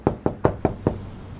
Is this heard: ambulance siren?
no